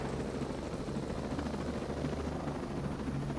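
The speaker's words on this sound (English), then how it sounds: "This is a military fucking helicopter." A military helicopter in Ghost Recon: Breakpoint drones on in a constant, loud rotor wash, with a dense low thrum and no break across the whole stretch.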